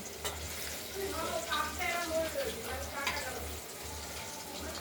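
Paneer pieces frying in hot oil in a wok, a steady low sizzle with soft bubbling and the occasional stir, close and moderately quiet, with a faint hum underneath.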